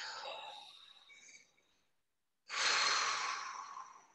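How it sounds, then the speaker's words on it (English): Close, soft breathing: a long slow exhale tapers into silence, then a deep, airy inhale swells and holds. No words are spoken. "let's just breathe"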